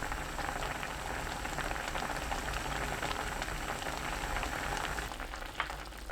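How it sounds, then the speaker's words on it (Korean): Braised tofu sprinkled with perilla powder bubbles steadily in an uncovered pan, a dense, even crackle and simmer close by that runs without a break and with no voices. "1분 30초 끓여주세요."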